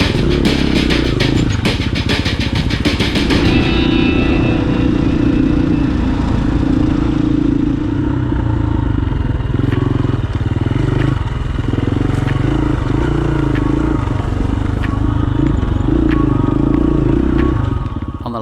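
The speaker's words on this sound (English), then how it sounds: "After a long day on our bikes, we headed back into town." Dual sport motorcycles ride back into town near Hurricane, Utah: a loud, steady engine drone close to the rider, with wind rush and rattling throughout and no break.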